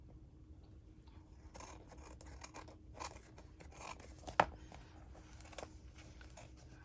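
Scissors snip paper trimmed for a junk journal cover made from a Little Golden Book, a string of soft, close cutting strokes with one sharper snip standing out, no talking.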